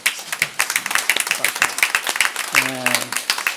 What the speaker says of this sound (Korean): 잠시 한번 일어서 우리 박수 한번 하십시다.